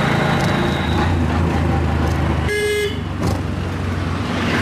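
Passenger auto rickshaw heading to Canning station, with a steady engine and road drone, and a sharp vehicle horn honking once midway amid traffic.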